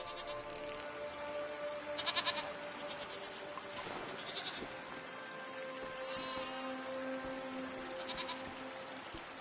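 Goat bleats from a PS5 video game ring out repeatedly over a steady droning background, several calls spaced across the stretch at moderate loudness, with no one talking.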